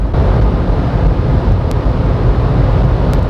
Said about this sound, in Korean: 자 속도가 아주 빠른데요 바람 소리가 아주 커집니다